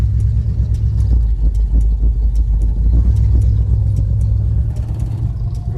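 A 1977 Ford F100 Custom barn find idles with a miss, its engine chugging in a loud, close, uneven low rumble with a regular ticking pulse running through it.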